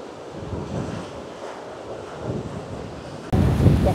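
Surf rolls against the beach at Tenneti Park in Visakhapatnam under steady wind buffeting the microphone, with a louder gust near the end.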